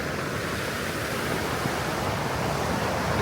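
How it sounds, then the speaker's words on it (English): Sea waves washing against rocks on a coastline, a steady broad roar of surf and spray with no distinct individual crashes, continuous and fairly close. "we're just waiting for the waves to hit the rocks"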